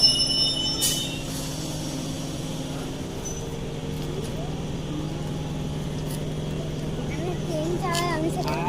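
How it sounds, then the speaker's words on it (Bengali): A Howrah-bound train pulling into a station on a rainy day: a steady low rumble and hum with faint wheel squeal, heard from the platform at moderate distance. "হাওড়া যাওয়ার ট্রেন এসে গিয়েছে।"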